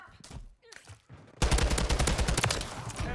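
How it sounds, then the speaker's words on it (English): Loud, dense automatic gunfire from a Taq 56 rifle in a Call of Duty MW3 gunfight, sudden bursts of rapid shots that sustain continuously after a quieter start. "That's the type of gunfight I was just talking about, by the way."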